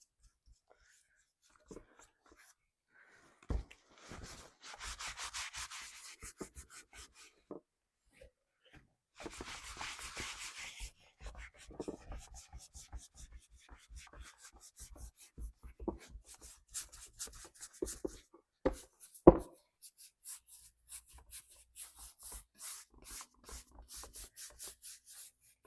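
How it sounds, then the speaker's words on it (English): Cloth rubs off excess antiquing wax from a thrifted home decor piece in quiet, repeated scrubbing strokes, soft and close, in irregular bursts with short pauses between. "I'm going to rub off the excess."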